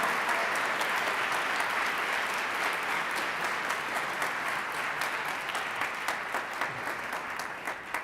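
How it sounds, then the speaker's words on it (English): Audience applause for the Trilogy watch party at a Highland High orchestra concert: a steady, dense wash of many hands clapping that holds at an even level for the full stretch, with a few sharper claps standing out near the end. "Could we clap for the Trilogy watch party, please?"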